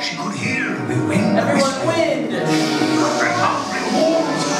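A live storytelling audience whispers together to imitate forest wind, a breathy, sustained hiss of many voices that swells and continues steadily throughout.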